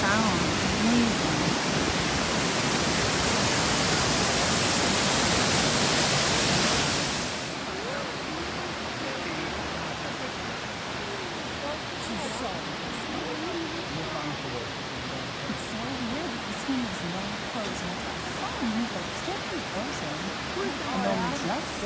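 Roar of a waterfall plunging a long way down, steady broadband rushing that stays loud for the first seven seconds, then drops to a softer continuous wash from a different spot for the rest.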